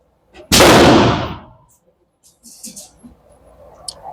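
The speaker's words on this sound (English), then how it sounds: "A few more rounds. I'm shooting at the A, the head zone." A single sharp, loud pistol shot from a Canik Rival at a competition shooting range cracks close by and decays quickly, followed by faint background noise.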